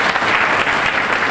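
Listeners at a Dussehra kavi sammelan give poet Dr. Anuj Bhadauria another short, vigorous round of clapping, dense and steady throughout.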